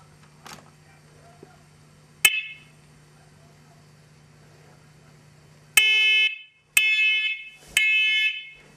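A newly installed smoke alarm mounted high up gives one sharp chirp, then a long steady hum. Near the end come three loud, piercing electronic beeps with short gaps between them.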